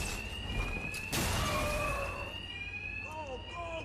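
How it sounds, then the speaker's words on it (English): A bank alarm in Batman: Arkham Knight rings as a steady, loud electronic tone with siren-like sweeps. A burst of noise cuts in, and a voice speaks over the alarm toward the end. "Two-Face's thugs won't hear me over the alarm."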